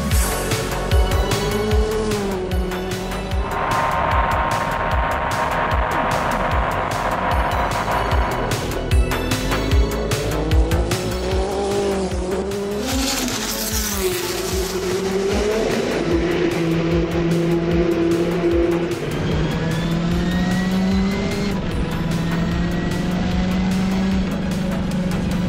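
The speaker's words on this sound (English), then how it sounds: "driving Mark Blundell's 1990 Nissan" A 1990 Nissan R90CK Le Mans prototype of about 1100 horsepower driven hard on a track: a loud, sustained engine roar from inside the car, climbing and dropping in pitch through gear changes and braking.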